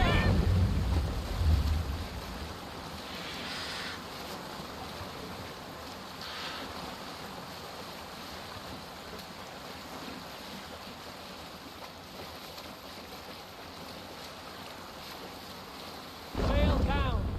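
A Viking longship in Assassin's Creed Valhalla sails across the open ocean, with a steady wash of waves and wind that rumbles continuously, louder swells opening and closing the passage.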